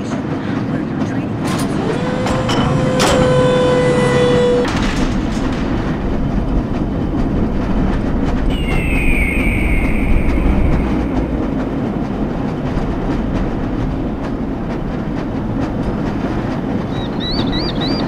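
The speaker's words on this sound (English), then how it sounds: "This lever-controlled train will transport you to a location where your training" A lever-controlled tram rolling along rails in the game Black Mesa, a steady rumbling rattle with clicking track noise and a few tonal whines and beeps, while a voice speaks over it.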